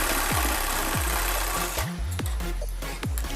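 Sewing machine stitching a cloth almirah cover, running steadily with a low mechanical hum and repeated thumping strokes at close range.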